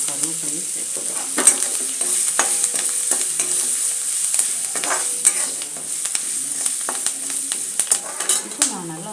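Ginger, green chili and curry leaves dropped into hot oil with fried dal, a loud bright sizzle with crackling pops and scraping stirs that continue steadily to the end.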